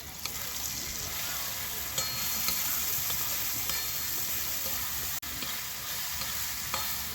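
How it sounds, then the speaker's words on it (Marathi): Onions frying in oil, a continuous crackling sizzle close up with occasional stirring clinks and one brief dropout, no talking over it. "कांदा तळून झाला आहे पहिला लाल लाल"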